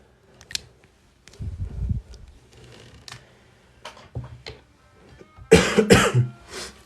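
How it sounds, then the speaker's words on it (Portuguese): A person coughing and clearing their throat several times while sick with a flu, with a louder burst of harsh coughs near the end, close and alone without speech. "a tosse aqui tá feia"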